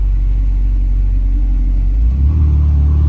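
A Ferrari 488 with a loud aftermarket exhaust rumbles deep and heavy, then swells into a throatier rev near the end, close and loud with no voices.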